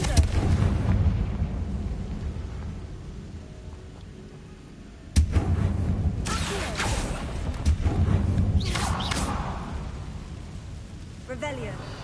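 A Confringo spell blast in a Harry Potter video game, a sudden loud explosive boom followed by crackling debris and rumbling, with game ambience before and after.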